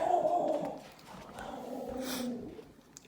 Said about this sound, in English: There's people walking by my house and my dog needs to bark at them.